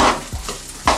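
Sucuk sizzles and is stirred in a frying pan with short scraping, crackling bursts, close and loud.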